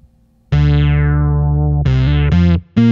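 Electric guitar run through a C4 Synth pedal with a notch low-pass filter: a loud, sustained synth-like note rings for over a second, then a few shorter, punchier notes follow, with no talking.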